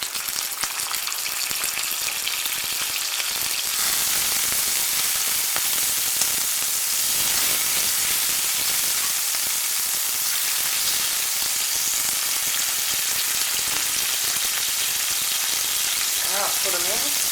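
Oil and a tablespoon of butter or margarine heat in a frying pan for potato cakes, rising after a few seconds into a loud, steady, close hissing sizzle that holds to the end.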